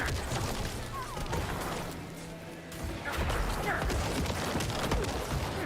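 Corpse explosion skill in Diablo IV firing repeatedly, a dense barrage of crashing blasts and thuds with a brief lull in the middle before the bursts resume.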